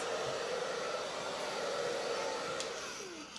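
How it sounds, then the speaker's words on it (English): A hair dryer blows continuously on hair being set in a vintage 1920s finger-wave style, a loud, close, steady whir that drops off slightly near the end, with no talking. "Drying the hair."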